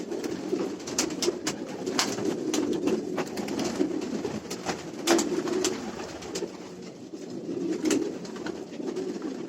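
Pigeons coo softly in low, repeated murmurs, with a few sharp clicks and rustles scattered over a steady background hum.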